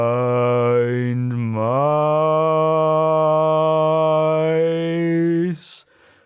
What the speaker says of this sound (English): That's the sound of 3 blind mice trivia.